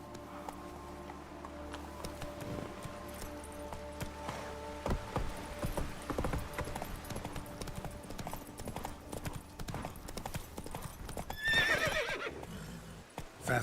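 Roach the horse in The Witcher 3 gallops with rapid, steady clip-clop hoofbeats, then lets out a loud neigh near the end, over quiet game music.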